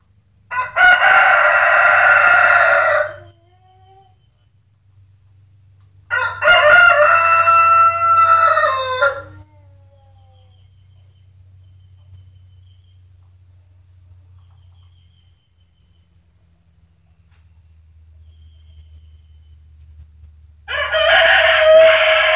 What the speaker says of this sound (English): It probably sounds like there's a lot of roosters.